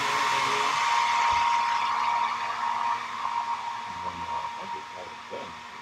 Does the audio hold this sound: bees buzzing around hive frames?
no